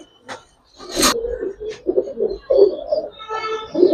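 Pigeons at a Bangladeshi pigeon seller's, including coloured Gribaz pigeons, giving soft low cooing calls off and on at close range, with brief louder bursts among them.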